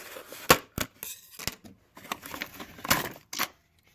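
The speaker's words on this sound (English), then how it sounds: "let me get some scissors here real quick, and we'll see if we can cut this stuff out of here" Scissors snip through plastic packaging on an Associated RC28 buggy kit: several sharp, close cuts and crinkles in an irregular rhythm, with short pauses between bursts and no talking.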